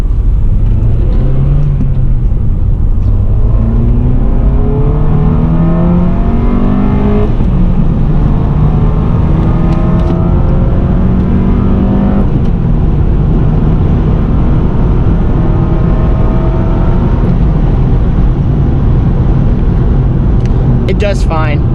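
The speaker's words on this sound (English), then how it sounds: "I do want you guys to hear the intake a little bit." A 7th-generation Honda Civic Si (EP3) with a K20A3 engine accelerates hard in first gear, its intake note loud and close as the revs climb steadily in repeated rising sweeps, with brief drops at each lift.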